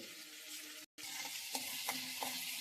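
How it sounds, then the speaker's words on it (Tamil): Mustard seeds spluttering in hot oil in a kadai, a steady bright crackle with a few sharper pops, broken briefly by a short gap of silence. "கடுகு நல்லா பொரிய விட்டுட்டு அப்புறம் நம்ம அந்த சட்னி எடுத்து இதில் ஊற்றிட்டோம்"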